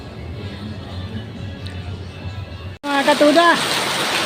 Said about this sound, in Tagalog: Oh. Ayan, grabe ulan mga katuda.